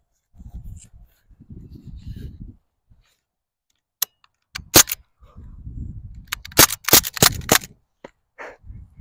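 Gunshots fired into a pillow to muffle them, a handful of dull thumps and sharp cracks in quick succession, close by, with quiet rustling and handling noise between the shots.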